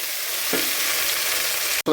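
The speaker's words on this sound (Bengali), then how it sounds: "এবার এই সেদ্ধ করা টমেটোগুলো এর মধ্যে দিয়ে দেবো" Boiled tomatoes drop into a pan of mutton masala, a steady loud sizzle of frying with a brief stir partway through and a short sharp clatter near the end.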